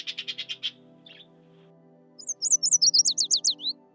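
A parrot gives a rapid series of bright, shrill calls: a quick burst of about six notes, a short faint chirp, then a louder run of around ten sweeping whistled calls, heard alone and fairly close.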